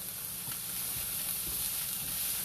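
Thickened teriyaki sauce sizzles loudly in a pan with Asian chicken and vegetables while being stirred, a constant close hiss with soft scraping stir strokes and no speech.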